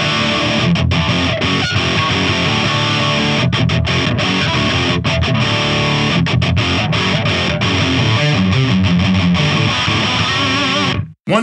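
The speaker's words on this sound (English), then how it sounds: "I'm using my friend Jared Pagan's single rec Boogie, which is just an amazing amp" Distorted electric guitar riff played through a Mesa Boogie single rectifier amplifier, dense, loud high-gain chugging with brief rhythmic gaps throughout, cutting off abruptly at the end; no voices.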